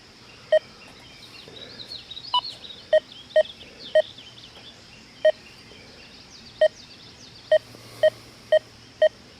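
A Deus 2 metal detector with an HF2 coil sweeps over a coin lying above nails, sounding about a dozen short, clear beeps spaced irregularly over a faint hiss.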